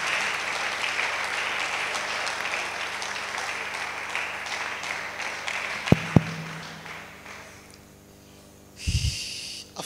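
A church congregation claps together in a dense, sustained round of applause that gradually fades out, with a couple of sharp knocks partway through and a short burst of noise near the end.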